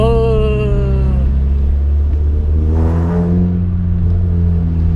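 A Peugeot 106 S16 engine revs hard, climbing to a loud whining peak then dropping back to a deep, steady idle rumble, heard up close with no one speaking.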